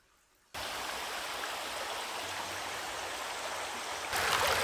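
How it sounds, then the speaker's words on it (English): A babbling brook flows steadily outdoors, a dense continuous rush of running water that starts abruptly after a moment of quiet and swells slightly louder near the end, with no voices. "You can't go wrong with a babbling brook."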